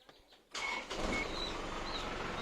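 The stock engine of a 2500 pickup runs close by. It rises abruptly from near-quiet into a steady rushing roar with thin, high whistling tones drifting over it, and no one speaks.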